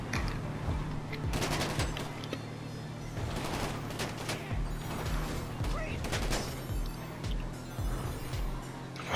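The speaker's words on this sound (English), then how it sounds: "Probably shooting him." Dense, rapid gunfire fills a firefight in GTA 5 Online's Los Santos Drug Wars, with bursts and single shots overlapping almost without pause for the whole stretch. A voice can be heard faintly under the shooting.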